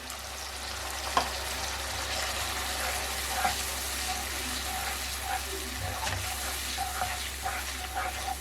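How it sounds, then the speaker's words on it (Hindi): A spiced mixture with Kashmiri chilli sizzles and bubbles in a pan after water is added, a steady close frying hiss with occasional stirring clinks and scrapes. "थोड़ा पानी शामिल करके अच्छी तरह से पका लेंगे।"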